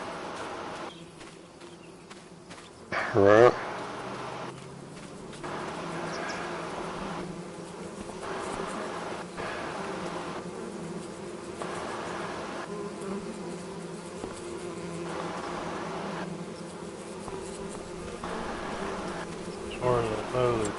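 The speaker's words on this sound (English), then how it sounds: "you can actually see the bees flying out" Bees swarm around beehives in the video game Farming Simulator 25, a continuous close buzzing drone that runs throughout, with a brief thump near the start and a single short spoken word.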